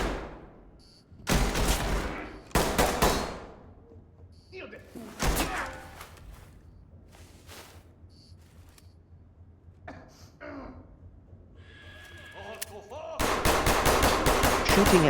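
Gunfire in the tactical shooter Ready or Not, with loud bursts of rapid automatic fire separated by quieter stretches, scattered single shots and thuds, and a long sustained burst at the end.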